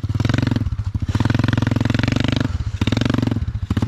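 A moped engine revs hard while the bike is being towed, a loud buzzing two-stroke drone that surges, dips briefly around the middle and climbs again, close and continuous with no talk.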